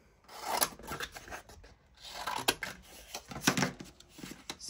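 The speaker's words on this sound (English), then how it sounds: "now let's have let's cut these out" Scissors snip through paper ephemera for a junk journal, a run of crisp close cuts and rustling paper slides in uneven bursts with short pauses between.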